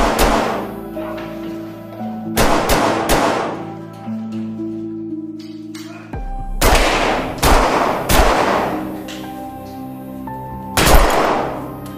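Gunshots ring out in a film shootout between police and armed robbers: several sharp, loud bangs in two clusters over a sustained tonal music score.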